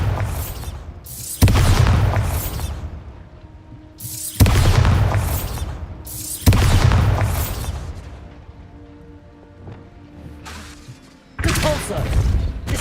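The Bombarda blasting spell from Hogwarts Legacy on PS5 sets off several loud, close booming explosions in a row, each a sharp burst that fades into a rumbling tail.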